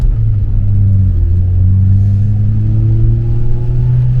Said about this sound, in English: needed some rev bombing. Some two-step in action, eh?